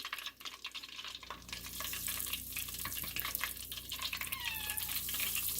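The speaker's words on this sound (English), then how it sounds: "that's my cat in the background." A cat meows in the background of a kitchen while chicken wings fry in oil, several gliding cries rising near the end over steady sizzling.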